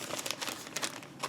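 A plastic bag holding a cross-stitch sampler project, Everyday Sampler by Hands On Design, crinkles softly and close by in a run of brief rustling bursts.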